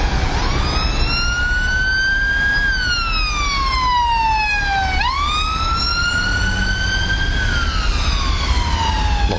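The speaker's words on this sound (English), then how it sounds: "Lots of sirens about." Emergency vehicle sirens wail along a London street, one loud rising and falling tone sweeping up and down continuously over a background of road traffic.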